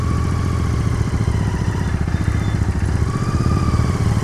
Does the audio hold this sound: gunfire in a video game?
no